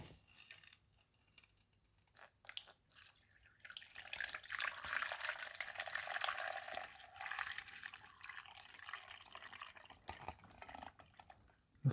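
Water pours into the reservoir of a Mainstays single-serve dual brew coffee maker, a steady trickling stream that swells and fades over several seconds, close and moderately quiet.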